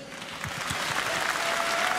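A crowd applauds an MMA fighter after a KSW 74 bout, with dense, steady clapping that swells slightly over two seconds.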